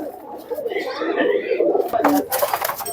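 Pakistani Teddy pigeons coo in soft, rolling, repeated calls up close, overlapping with someone talking and some rustling near the birds.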